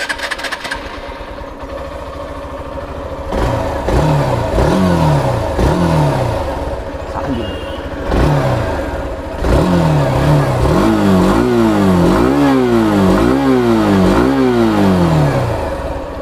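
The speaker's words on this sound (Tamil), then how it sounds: "எக்ஸாஸ்ட் நோட் எப்படி இருக்குன்னு கேளுங்க." A Hero Xtreme 160R BS6 motorcycle engine idles and then revs repeatedly through its exhaust, loud and close, with a run of quick throttle blips toward the end.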